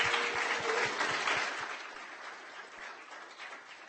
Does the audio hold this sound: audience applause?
yes